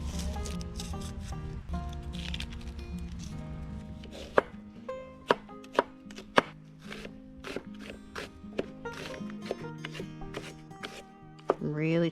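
Knife finely chopping onion down toward a paste for an Indian dish at a camp setting, sharp irregular taps over a steady musical background, with a voice talking throughout.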